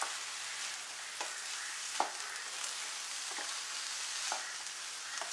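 Yam stalk and lentil thoran being stirred in a pan, with a steady soft sizzle under a few faint spoon scrapes spaced across the stretch, no talk.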